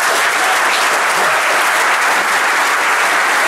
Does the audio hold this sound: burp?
no